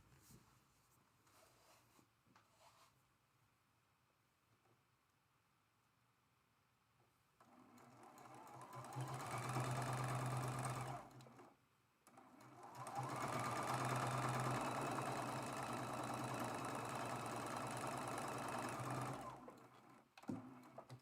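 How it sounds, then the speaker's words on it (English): A sewing machine stitches a traditional quilt block seam, running in two long steady whirring bursts separated by a short pause, close and fairly loud after a quieter start. "We're sewing going the opposite direction this time."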